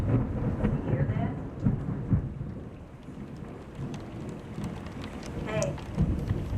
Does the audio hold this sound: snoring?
no